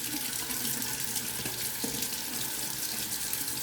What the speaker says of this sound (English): Just kind of rinsing it under hot water here.